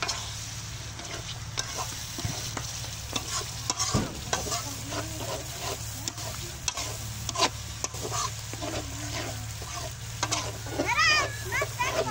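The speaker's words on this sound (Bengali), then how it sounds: "মশলা কষানো হচ্ছে" Spice masala being sautéed in a pan with dense, rapid stirring and scraping over a steady frying sizzle, close by, with faint background voices and a low hum.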